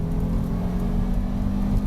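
A 2006 Volvo S60 T5 accelerates hard under full throttle, its steady engine drone and humming cabin noise holding loud and continuous from inside the car, with no one talking.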